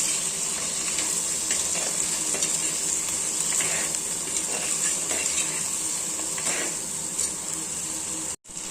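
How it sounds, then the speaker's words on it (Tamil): Crab and masala frying in a pan for crab gravy, a steady bright sizzle with repeated scrapes and clinks of a utensil stirring, close and continuous, with a brief cut near the end. "நல்லா ஒரு வதப்பு போட்டுக்கலாம்"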